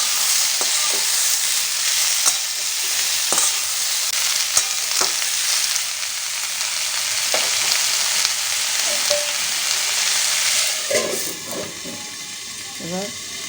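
Ivy gourd (kundri) with poppy seeds fries in a pan under a loud, continuous hissing sizzle, with a spatula scraping and tapping at irregular intervals; a voice speaks briefly near the end.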